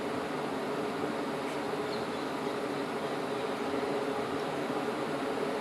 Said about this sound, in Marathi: मी कपड्यावर ठेवून सगळ्या बाजूने इथे शिलाई मारून घेणार आहे.